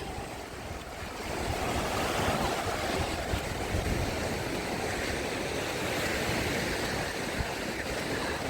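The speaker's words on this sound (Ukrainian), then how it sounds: "Ці білі барашки, це така краса, наше моречко, яке воно гарне." Whitecapped sea waves roll onto the beach at Odesa, a loud continuous wash of surf with gusting wind buffeting the microphone, no voices over it.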